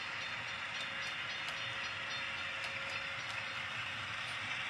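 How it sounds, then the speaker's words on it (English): A model train runs along a Central Texas Subdivision layout, a steady hissing rumble with faint rhythmic ticking from the wheels crossing rail joints, heard alone at a moderate distance. "All right, here comes our train."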